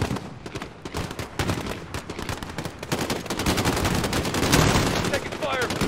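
Rapid automatic gunfire in a Modern Warfare embassy battle, dense overlapping bursts of shots that run almost without pause, loud and close, with faint shouted voices mixed in.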